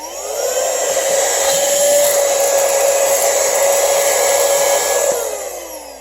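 A LANNIU 2-in-1 compressed air duster and vacuum with a 110,000 RPM motor runs at a steady high-pitched whine, rising and falling off at the ends, close and loud with no talking.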